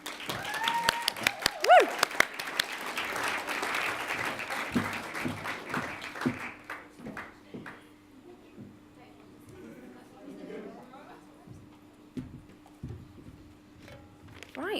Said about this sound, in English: can I have a massive round of applause